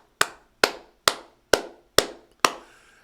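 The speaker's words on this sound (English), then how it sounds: "Can we get a hand clap for that?" Six single hand claps land one after another at an even, deliberate pace, each a sharp, dry smack with a short ring, close and alone with no voices.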